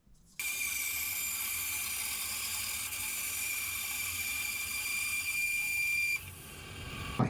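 Bandsaw trimming a plastic shop vac elbow fitting, a steady high whining hum running for several seconds without pause before cutting out near the end.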